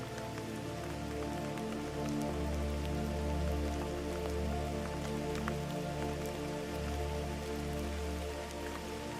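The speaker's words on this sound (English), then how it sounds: "The gentle pitter-patter of rain taps steadily on the wooden roof above" Gentle rain pattering steadily on a wooden roof, a soft continuous patter with scattered faint drips over a low steady hum, no voices.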